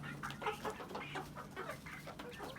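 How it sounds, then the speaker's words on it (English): Chickens about ten weeks old cluck continuously in a coop, with a steady low hum running beneath the repeated short clucks and calls. "And there's a chicken."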